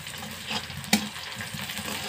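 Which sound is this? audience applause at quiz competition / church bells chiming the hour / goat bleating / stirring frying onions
stirring frying onions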